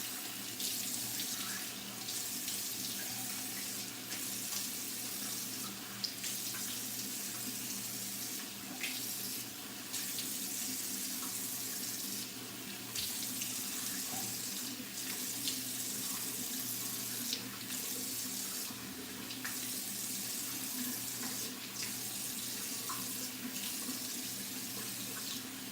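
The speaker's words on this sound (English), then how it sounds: "I'm gonna rinse this off and be right back." A bathroom tap runs steadily while someone rinses their face, a continuous moderate hiss of water with faint splashes and small clatters throughout.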